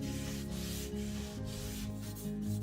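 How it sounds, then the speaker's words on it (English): A cloth rubs light Minwax Weathered Oak stain across a wooden tray board, producing soft, steady scrubbing strokes with a few rhythmic swipes, close and quiet with no talking. "I rub that on all over with a cloth."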